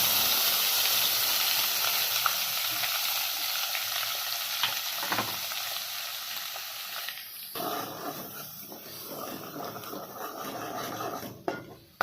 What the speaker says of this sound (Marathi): हे जे वाटण केलेलं आहे ना ते आपण त्याच्यात परतून घेऊया